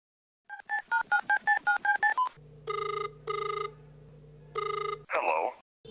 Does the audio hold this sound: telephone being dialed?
yes